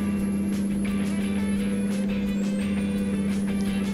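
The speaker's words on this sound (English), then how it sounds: "This truck sounds weird as fuck." Steady, loud low truck engine drone from a European or American truck simulator game, holding an even idle-like hum throughout with faint higher whines and no talk.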